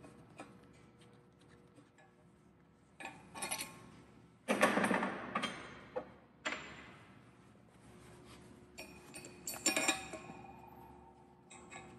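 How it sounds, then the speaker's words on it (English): Flange bolts being inserted with a pin wrench aligning the bolt holes, heard as scattered metallic clinks and scrapes, close and fairly quiet, with one louder rattling burst in the middle. "Insert remaining bolts using a pin wrench to align bolt holes."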